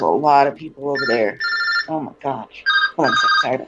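A telephone ringing in bursts of bright, steady tones, interleaved with a person talking loudly nearby.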